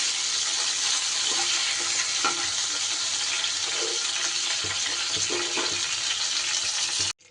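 Sliced pointed gourd (potol) fries in hot oil in a pan, giving a continuous loud sizzling hiss with a few soft stirring knocks, cut off abruptly at the end.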